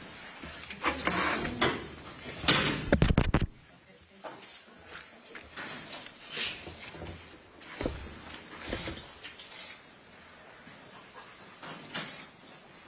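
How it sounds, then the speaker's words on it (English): A door being closed in a briefing room, a burst of sliding and thudding clatter ending in a firm shut, followed by quieter room noise and a few voices. "Rob, can we close that door so we don't get the noise?"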